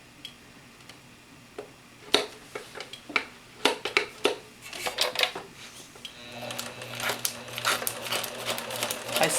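A sewing machine zig-zag stitching thin, delicate material, starting with scattered clicks and short mechanical bursts, then settling into a continuous, close whirring run with no voices.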